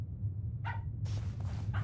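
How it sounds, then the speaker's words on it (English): Short bursts of dog barking from the horror video game Pacify sound at a distance, coming in a few quick yaps over a steady low droning background, with no talking. "Oh, I heard the dogs."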